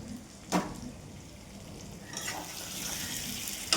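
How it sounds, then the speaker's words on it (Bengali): Papad fries in a pan of oil in a home kitchen. An early clunk is followed by a quiet hiss that rises into a steady, soft sizzle, with no talking. "লাস্টে একটু পাঁপড়টা ভাজবো, আর ওই বড়াটা করবো"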